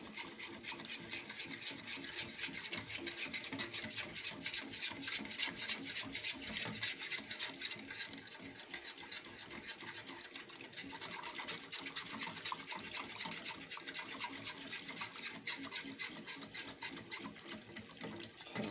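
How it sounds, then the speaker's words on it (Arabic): Chocolate cake topping is stirred in a pot with a continuous rhythmic scraping and rubbing of the utensil against the pot, steady and close throughout with no talk. "غادي نبقى كنحرك مزيان حتى يتماسك ويشد راسو."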